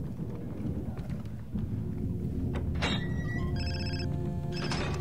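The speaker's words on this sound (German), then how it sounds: "Telefonanruf" A phone rings in Far Cry 3 over constant low game ambience, with a short bright trill near the middle and another at the end.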